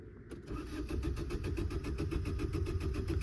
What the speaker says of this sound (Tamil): செல் போடுறேன்